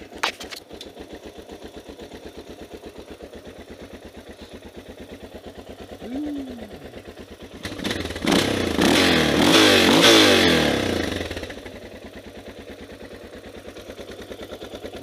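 A Suzuki DR650 motorcycle engine idles with a steady low thump, close and loud, rising into a short throttle blip around the middle before settling back to a lower idle.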